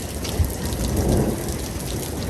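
Hail pelting down during a thunderstorm makes a dense, steady roar of close impacts, loud and unbroken, with no one speaking.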